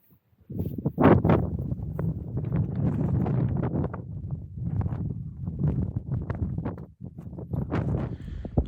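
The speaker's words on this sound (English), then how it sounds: "so just hiding from the wind" Gusty wind buffets the microphone high on a Welsh mountain, a rough low rumble that swells and drops in uneven bursts for several seconds.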